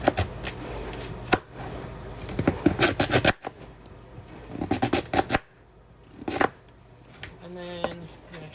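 A knife slices a thick sweet potato on a cutting board in bursts of rapid, crisp chopping taps, broken by short pauses, with someone talking faintly between cuts.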